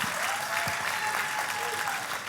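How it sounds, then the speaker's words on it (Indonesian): A church congregation claps in loud, dense, sustained applause for the whole stretch, a thick wash of hands filling the room. "tepuk tangannya yang paling meriah buat Tuhan kita"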